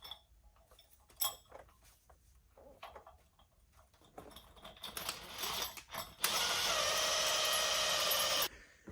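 Bottom brackets for airbags are tightened on an LB7 Duramax truck, with close metallic clicks and clanks from hand tools, then a sustained loud whirring burst, likely from a power tool, before it stops.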